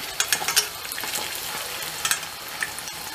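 Kolaç dough sizzles and fries in hot oil, a soft bubbling crackle with a few brief stirring clicks and taps, fairly quiet and without talk.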